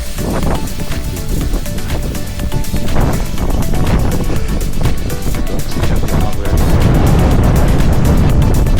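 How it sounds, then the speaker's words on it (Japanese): Strong gusty storm wind on a mountain descent near Senjojiki Cirque and Mount Kisokoma, a loud, continuous roar buffeting the microphone with surging gusts throughout. "突風が吹き荒れる中 下山していきます。"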